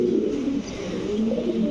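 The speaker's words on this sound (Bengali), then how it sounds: "এটা ইন্ডিয়ান কবুতর" An Indian pigeon cooing, a low throaty warble rising and falling close by over a dull background, with no talking.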